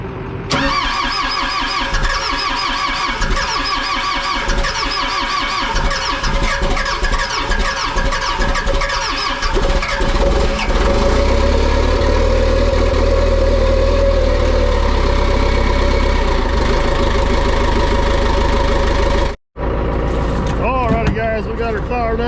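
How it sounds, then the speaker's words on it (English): An old excavator engine cranks on a jump pack, catches, then settles into a loud, steady, rumbling idle, heard close up with a brief dropout near the end and voices talking over it. "We got her fired up and warming up."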